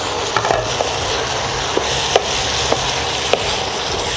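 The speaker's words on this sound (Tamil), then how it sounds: "நல்லா கலந்து விட்டுக்கோங்க." Macaroni stirred in a cooking pan gives a steady sizzling hiss, with a few sharp scrapes and taps of the spoon against the pan at irregular intervals, close and alone.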